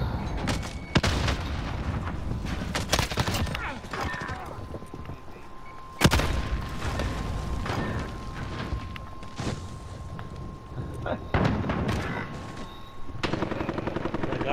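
Online multiplayer match in Call of Duty: Modern Warfare with loud, sharp shotgun blasts and other gunfire bursting at irregular intervals over a steady game soundscape, with a sustained tone running through the middle.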